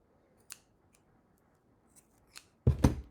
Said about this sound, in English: I'm going to cut this really long one.